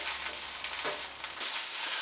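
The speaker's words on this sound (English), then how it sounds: "We'll continue stirring occasionally until the beans begin to break down." Beans cooking in a pan give off a steady broadband sizzle, with a faint scrape of occasional stirring partway through; no one speaks.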